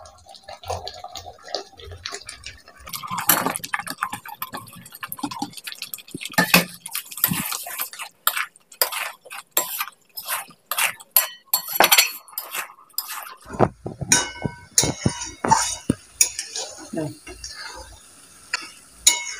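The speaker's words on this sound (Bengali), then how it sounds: "আমি এবার এর মধ্যে সবজিগুলো সব দিয়ে দেবো" Mixed vegetables being tipped into fried masala in a pan for a restaurant-style Kolhapuri mix veg, heard as a series of clinks, taps and scrapes of utensils on cookware, close and irregular, with a voice talking over parts of it.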